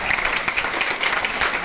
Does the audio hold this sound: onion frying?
no